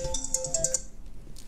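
A phone ringtone for an incoming call, a bright repeating electronic melody of short evenly spaced tones that plays for under a second and then stops, leaving quiet room noise.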